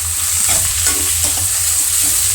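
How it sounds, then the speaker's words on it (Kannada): Fresh peas, carrots and beans fry in oil with a constant loud sizzle, overlaid by soft scraping stirs and a low steady hum, close up, with no one speaking. "ಎಲ್ಲನೂ ಎಣ್ಣೆಯಲ್ಲಿ ಚೆನ್ನಾಗಿ ಫ್ರೈ ಮಾಡ್ಕೊಬೇಕು"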